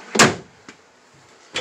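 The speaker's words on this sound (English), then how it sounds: "Actual drawers that actually come out instead of like little half drawers." Full-size drawers sliding out in an Entegra Vision motorhome interior: a loud woody slide-and-thump, then two fainter knocks spaced about a second apart, with no talking.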